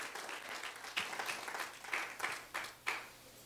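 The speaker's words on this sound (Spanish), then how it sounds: "Dale ese aplauso al Rey de Reyes y Señor de Señores" A church congregation breaks into steady applause during a service, a dense, moderately loud wash of clapping with a few sharper claps standing out. The applause holds for several seconds, with no clear speech over it.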